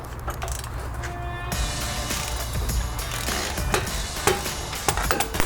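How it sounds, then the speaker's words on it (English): Metallic ratcheting and clanking as an 18mm socket breaks loose the bottom shock bolt on a new Ford F250 during a lift and suspension kit install; close, irregular knocks and clicks over a steady low workshop rumble. "So now we're going to go ahead and break the bottom bolt loose. We're going to use an 18mm socket."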